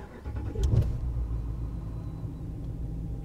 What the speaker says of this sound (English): That's a pretty good startup.